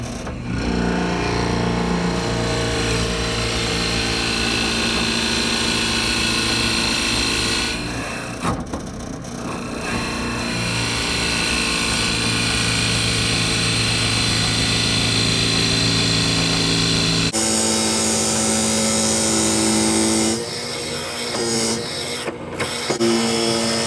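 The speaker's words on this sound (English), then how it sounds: "I've got a 7/8 inch drill bit in my drill press, and we're going to use that to drill out the end of our handle" A drill press with a 7/8 inch bit bores into the end of a wooden lathe-tool handle, a steady motor whine with grinding wood under it, a short pause midway, then a change in tone as it shifts near the end.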